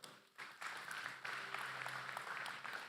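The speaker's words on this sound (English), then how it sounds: "Can you clap for them?" Church congregation clapping during a sermon, a soft, fairly distant patter of applause that swells after a brief quiet start and holds steadily.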